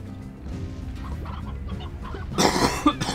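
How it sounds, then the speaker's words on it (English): Chickens cluck in the video game Slime Rancher, a soft, low stream of clucks rising into a louder burst of squawks near the end. "Chickens are up here, that's for sure."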